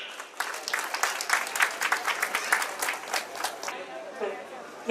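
Applause from an audience at a cooperative credit society's 13th annual event in Delhi, a steady patter of many hands clapping for several seconds before thinning out toward the end, with some voices mixed in underneath.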